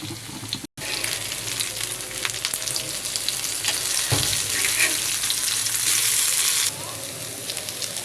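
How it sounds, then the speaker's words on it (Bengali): Dried-prawn fritters fry in hot oil, giving a loud, dense, continuous crackling sizzle close up, briefly cut near the start and easing slightly toward the end. "আমি কিন্তু একই প্রসেসে সবগুলো বড়া উল্টে পাল্টে ভেজে নেব"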